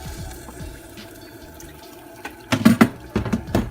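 Two tablespoons of water poured into melted chocolate for a keto donut glaze, heard as a few close, short splashy pours and drips over quiet kitchen background.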